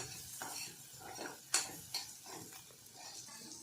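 Oil sizzles softly in a pan while the vada pav filling is sautéed. A few sharp spatula clinks against the metal stand out over the quiet frying.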